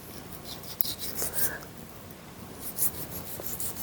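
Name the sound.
scraping fat off a surface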